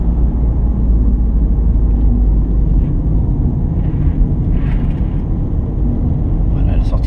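A car accelerating along a winding road, a steady loud engine rumble and road noise rising slightly, with faint cabin sounds over it.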